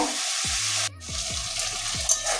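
Okra sizzles in hot oil with a steady hiss, broken by several scraping strokes of a spatula against the pan.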